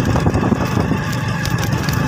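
A steady, rumbling motorcycle engine drones continuously with wind noise, no clear changes in pitch, heard up close throughout.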